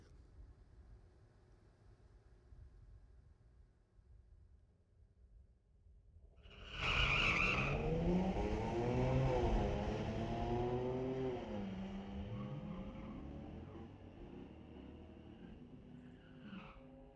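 White Camaro launching down a drag strip at Mission Raceway, the engine roaring in loudly after several seconds of quiet and sweeping up in pitch through gear changes before fading into the distance.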